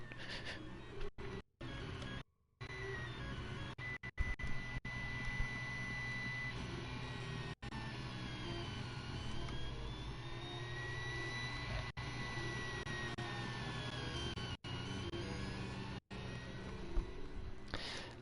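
A 3D printer runs steadily, making a continuous whirring hum overlaid with rising and falling motor whines, broken by a few brief dropouts.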